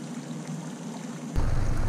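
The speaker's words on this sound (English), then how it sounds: "Alright, the conditions have deteriorated. It's pouring." Heavy rain pours down during a kingfish fishing outing, a steady broadband hiss that swells suddenly louder and closer near the end, with no voices.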